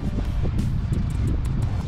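Steady low rumbling wind at Jemez Springs, New Mexico buffeting the microphone, loud and continuous throughout, with no clear voices.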